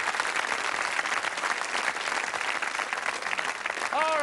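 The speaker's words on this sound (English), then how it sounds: "Let's give a nice round of applause." Studio audience applause on a television game show, steady, even clapping that holds at moderate loudness throughout, ending with a short electronic chirp.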